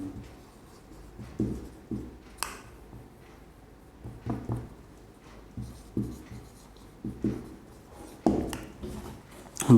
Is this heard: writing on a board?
yes